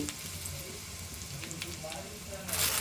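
Dried red chillies crackle in heating tempering oil, a faint, close, steady sizzle with a brief louder hiss at the end as more goes in, no voices.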